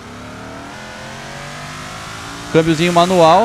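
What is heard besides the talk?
Chevette car engine revving in video game BeamNG.Drive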